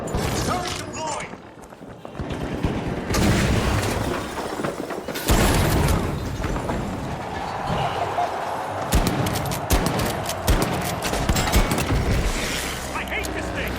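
A deployed turret firing in a video game, bursts of loud gunfire and booms with mechanical clatter over about fourteen seconds, mixed with chaotic game sound effects.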